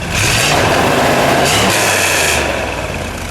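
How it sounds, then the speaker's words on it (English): A 1963 Chevrolet Corvette split-window with a fuel-injected engine is revved once, a loud, close, sustained roar that holds for a few seconds before easing slightly. "We'll give it one good rev."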